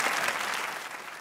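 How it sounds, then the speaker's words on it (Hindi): Studio audience applause on a Pakistani TV comedy talk show, a brief, dense burst of clapping that fades slightly toward the end. "जिस पे आप तालियां बजा रहे हैं"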